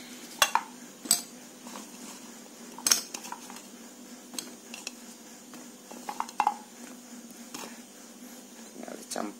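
Cassava being stirred into batter in a bowl, with scattered clinks and taps of a utensil against the dish and soft mixing sounds, while a voice talks at times.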